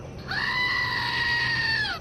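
A goat gives one long, loud, sustained scream with strong harmonics, lasting nearly two seconds, heard alone and close by.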